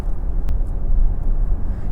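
A 2025 Volkswagen ID.7 electric car with 286 PS and 545 Nm of torque accelerates, giving a steady low road and motor rumble heard from inside the cabin, with no talk over it.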